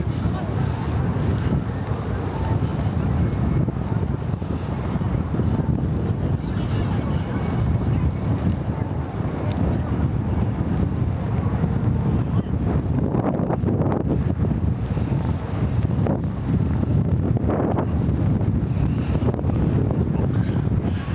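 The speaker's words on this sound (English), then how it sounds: "It is windy." Strong wind buffets a microphone outdoors in Japan, making a loud, continuous low rumbling roar that never lets up and covers everything else.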